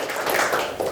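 Audience applause at the Junior STAG 50th anniversary exhibition, a short, dense burst of many hands clapping at once, steady and moderately loud throughout.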